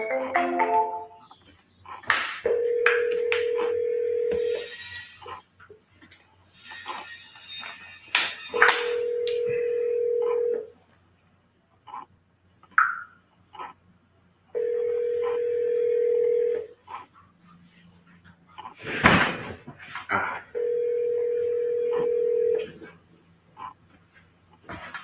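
Phone line sounds during live calls to sellers: steady ringback tones in repeated bursts roughly every six seconds, interspersed with brief dialing tones and clicks, fairly loud and unaccompanied by speech.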